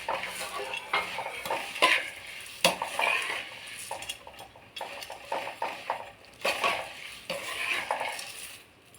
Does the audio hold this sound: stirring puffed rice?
yes